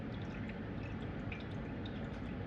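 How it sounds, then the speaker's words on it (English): Rendered bacon fat is poured into a Pyrex measuring cup, a soft, continuous liquid trickle with faint dripping, close and quiet, with no talking. "I have my trusty Pyrex cup, and we're going to pour a little of that in there"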